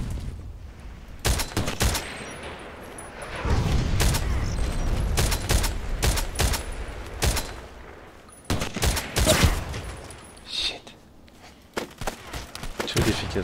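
Sniper rifle fire, an SVD-S, in a shooter video game: loud, sharp shots spread across the stretch in uneven bursts, some close together, over rumbling game ambience.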